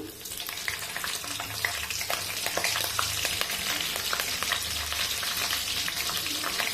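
Green chillies and tempering spices fry steadily in hot oil for a Telugu bottle gourd masala curry, a continuous close sizzle with crackling pops and occasional stirring scrapes.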